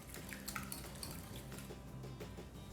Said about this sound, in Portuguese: Já vou misturar aqui um pouco o creme de leite com os ovos